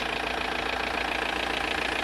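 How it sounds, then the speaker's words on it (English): Diesel engine of an Audi 80 1.9 TDI idling steadily after starting, during a UK MOT inspection; a continuous, even mechanical rumble with a faint knocking texture and no voices. "and then start the engine, please"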